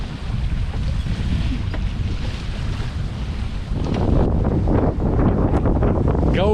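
An Albin Ballad sailboat beats upwind, with steady rushing wind buffeting the microphone and water hissing along the hull, swelling louder partway through.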